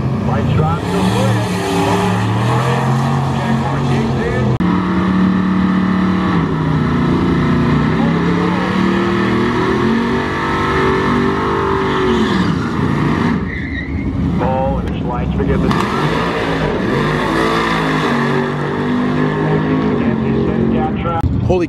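Motorcycles race past at a car meet, their engines roaring loud and continuous with rising and falling revs as they accelerate by, a dense motor din close at hand.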